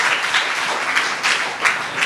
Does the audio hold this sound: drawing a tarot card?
no